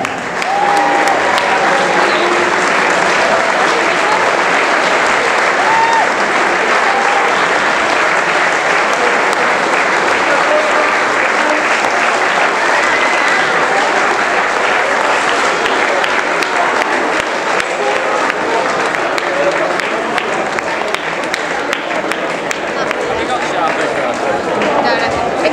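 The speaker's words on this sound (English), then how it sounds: "Can you please be upstanding once again, make lots of noise as we thank Benny Beningame and Yerry Mina" Dense audience applause fills an awards evening hall with a standing crowd, a loud, continuous wash of clapping that holds steady from start to finish without a break.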